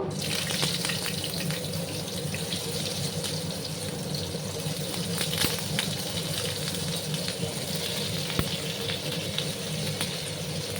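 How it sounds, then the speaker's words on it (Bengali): Pointed gourd (potol) pieces fry in hot oil, giving a dense, steady sizzle with scattered small pops and crackles, moderately loud and uninterrupted. "তেলটা গরম হয়ে গেছে। এবার আমি একে একে সমস্ত পটলগুলো আমি দিয়ে দেবো"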